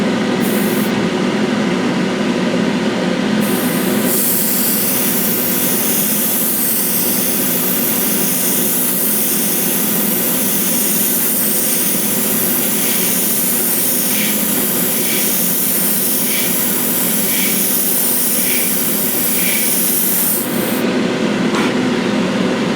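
A continuous hissing airbrush spraying a gloss clear coat on a scale model runs nearly the whole time, loud and close, with a slight pulsing toward the end and no voices.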